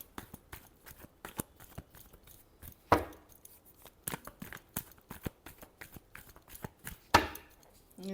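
Tarot cards shuffled by hand, a quiet run of quick riffling snaps and slaps with a few louder card strikes spaced through it.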